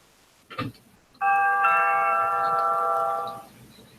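A Vivint smart doorbell chime rings once, a sustained multi-tone ding-dong lasting about two seconds after a short knock-like sound.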